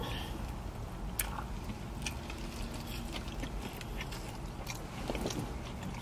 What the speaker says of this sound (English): Take that first bite. You get the cheese. You got the crunch